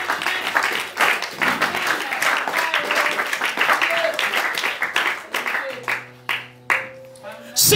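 Church congregation applauding and acclaiming the Lord, a dense wash of clapping and cheering voices that thins into scattered claps and shouts over a musical tone.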